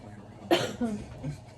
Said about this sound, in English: I have allergies, so if I'm coughing or whatever, that's why.